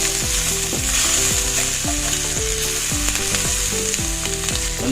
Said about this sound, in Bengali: এভাবে আমি প্রায় 1 মিনিটের মতো রান্না করুন হাই হিটে